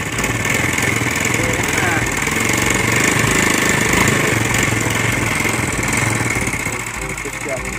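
A motorcycle engine runs close by with a loud, steady, rattling chug that stays even for several seconds, with voices mixed in underneath.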